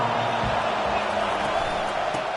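A big crowd at a Michigan college football stadium roars steadily in a loud, continuous wash, with a few low thuds, heard under a broadcaster's commentary.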